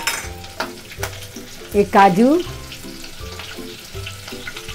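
Green chilli hitting hot oil with whole spices like cinnamon, cardamom and cloves for malai kofta, a sizzle and stirring clatter under a woman's speech, with a brief louder spit midway.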